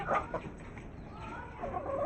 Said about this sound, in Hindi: और यहाँ पर हमारी ये मुर्गी भी खा रही है